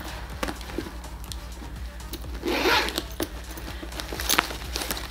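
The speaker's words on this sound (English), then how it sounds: "It has a zipper compartment." A zipper is worked on the compartment of a thrifted knotted-handle handbag: close, brisk zipping and rustling over a few seconds, with no speech.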